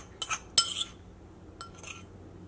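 A metal tablespoon scoops semolina from a bowl in a few brief, bright clinks and scrapes against the rim, close and clear with quiet gaps between.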